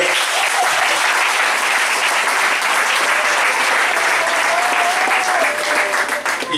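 A church congregation applauding, loud, dense clapping that continues steadily through the whole stretch, with faint voices mixed into the crowd.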